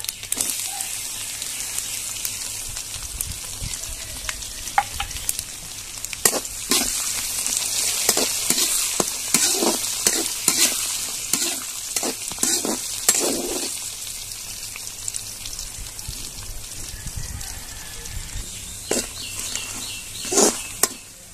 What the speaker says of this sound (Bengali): আমার রসুনটা হালকা লাল হয়ে এসেছে। পাঁচ ফোড়ন ভাজা হয়ে গিয়েছে।